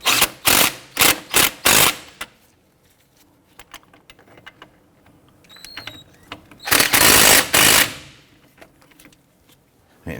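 Bolts being snugged on the front strut and wheel assembly of a 2006-2014 Honda Ridgeline during a wheel bearing replacement, heard as close, loud bursts of ratcheting or impact-driven tightening with quieter tool clicks between them, and no talking.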